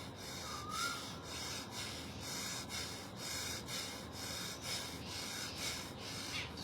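Rapid, forceful rhythmic breaths pumped in and out through the nose during bhastrika pranayama, steady and evenly spaced, with no talking.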